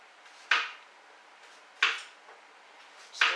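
Three crisp knife strikes through a carrot onto a cutting board in a home kitchen, evenly spaced about a second apart, close and clean against a quiet background.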